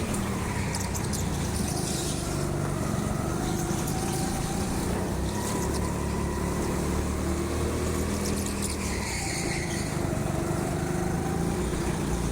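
A go-kart engine buzzes steadily as the kart drives laps around the indoor track at TeamSport Sheffield, a close, continuous motor drone with faint tyre squeals and other karts audible in the busy session.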